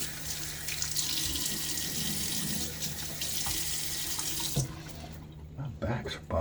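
Tap water running steadily into a sink while a face is wetted before a shave, a broad close rush that cuts off near the end, followed by a few splashes and drips.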